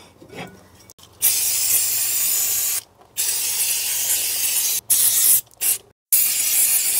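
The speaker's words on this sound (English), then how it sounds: "That brake cleaner, you literally just spray in and it cleans all the gunk off" Several bursts of brake cleaner aerosol spray hissing close up on car parts, the longest lasting a couple of seconds, separated by short pauses.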